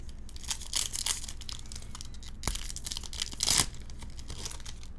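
Foil of a Japanese Pokémon Wild Force booster pack tearing open at close range, a few crinkly rips and crumples with one sharper burst near the end, no talking.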